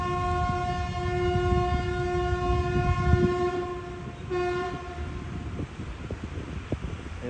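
Thai express train 31 reverses into a platform at Hat Yai Junction, its horn sounding a long sustained chord, then a short second blast, over rumbling wheels and the clatter of the cars.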